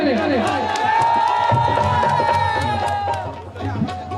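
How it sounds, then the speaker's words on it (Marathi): A crowd at a Buddhist devotional song performance cheers and shouts in a loud, continuous wash of voices, with a sustained tonal line running through it for about four seconds. "जोरदार टाळ्या होऊ द्या."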